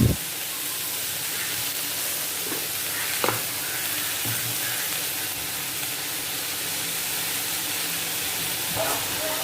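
Chopped tomatoes and beans fry in a pan for a veg roll, with a steady broadband sizzle and a few soft knocks of stirring throughout.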